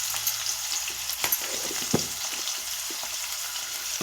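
Dried prawns fry with salt in a pan, giving a steady close sizzle with occasional crackles and soft stirring scrapes.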